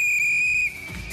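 A single sharp, shrill whistle blast sounds at a carnival parade in Patras, sustained and loud, then cuts off into crowd and street noise.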